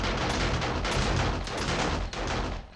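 Automated turrets in 7 Days to Die fire during a horde night, a dense, continuous burst of rapid gunfire that stays loud and close throughout with no voices.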